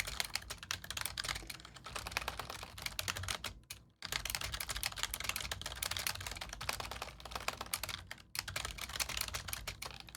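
Rapid, dense typing clatters on a computer keyboard for about ten seconds, broken by two brief pauses, close and steady with no voices over it.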